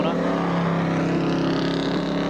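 1983 touring cars race around the Pukekohe circuit, with a steady, loud engine drone and tyre-sliding cornering running under continuous commentary throughout.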